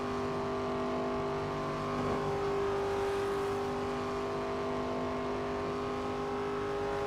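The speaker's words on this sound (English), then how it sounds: "The car, the RPMs are picking up a little bit more now." A NASCAR race car engine in a racing video game drones steadily at high revs at Kansas, its pitch holding and rising slightly as it keeps running, loud and continuous with no talking.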